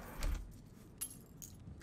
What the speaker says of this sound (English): Throw keys.